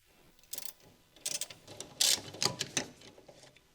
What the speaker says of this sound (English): Use 12mm short socket with telescoping ratcheting wrench.